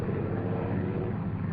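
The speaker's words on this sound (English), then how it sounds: "One by one, the planes came home in the dawn." Bomber aircraft returning home at dawn from a raid, a steady low droning engine roar that stays even and unbroken throughout.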